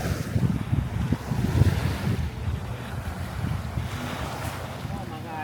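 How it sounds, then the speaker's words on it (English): Steady rushing surf at a beach in Montego Bay, Jamaica, with low rumbling water and gusty wind noise buffeting the microphone, continuous throughout without voices. "The sound of the waves."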